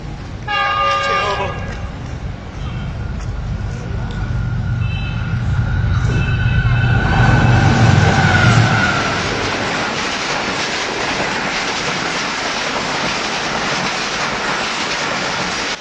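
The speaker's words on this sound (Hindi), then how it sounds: "ये video solar down Karachi express की है जो काना काचा फ्लाईओवर से पास हो रही है।" Down Karachi Express passing over the Kana Kacha flyover, opening with a loud multi-tone horn blast, then a building rumble and rattle of cars rolling past, staying loud and continuous to the end, with voices mixed in.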